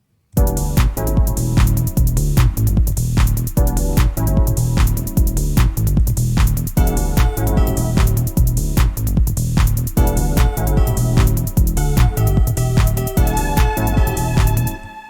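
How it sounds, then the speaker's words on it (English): A funky, bouncy synth bass line in a chiptune style, looping steadily with a drum beat at full volume. "And we made a funky bass line."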